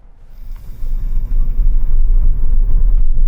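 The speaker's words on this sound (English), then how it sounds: "let's time this car from 0 to 60 miles an hour" A car launches hard from a standstill in sport mode with stability control off, a deep engine rumble swelling quickly and staying loud and close as it accelerates toward 60 mph.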